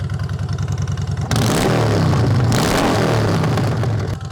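Honda Fury motorcycle with a 2-into-1 exhaust idling with a loud, lumpy exhaust pulse, then revving up to a sustained roar before dropping back toward idle.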